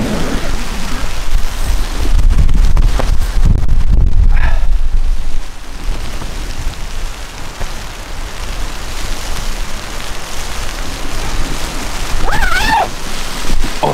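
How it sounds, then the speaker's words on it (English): Heavy wind and rain outdoors at an exposed riverside spot, with loud rushing gusts buffeting the microphone in the first half, then steady dense rain hiss continuing, and a faint bark or cry near the end. "just came in some really, really heavy weather. And we are quite wind exposed here."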